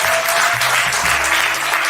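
Audience applause at Harlem Fashion Week, loud continuous clapping over a low hum and background tones, with no pauses.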